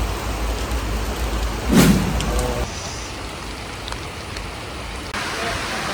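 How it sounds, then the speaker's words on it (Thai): Heavy rain pours at a Thai football stadium before a Muang Thong versus Nakhon Ratchasima match, a dense, steady hiss with a brief louder swell near the start, then an even downpour. "ฝนตกหนักมาก"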